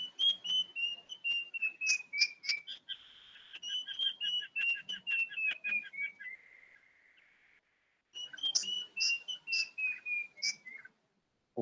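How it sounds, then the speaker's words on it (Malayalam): A puff-throated babbler, a ground-dwelling forest bird, sings a string of clear, rising and falling whistled phrases, close and loud, in two bursts separated by a short pause, with no talking. "ഇതും വളരെ മനോഹരമായി പാടുന്ന മറ്റൊരു പക്ഷി, പഫ് ത്രോട്ടഡ് ബാബ്ലർ"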